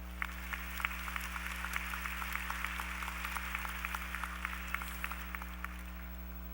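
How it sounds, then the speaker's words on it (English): Steady audience applause fills a hall at a fall university commencement ceremony, a continuous wash of clapping with individual claps popping through, over a constant low hum from the room or sound system, with no voices. "Let's give them a round of applause."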